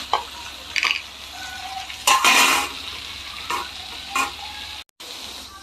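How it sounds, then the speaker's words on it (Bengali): Fish pieces frying in a pan for a Bengali fish curry (macher jhol), a steady close sizzle with a few louder bursts of crackle and stirring, no voices. "এগুলো ততক্ষণ ভাজা ভাজা হচ্ছে"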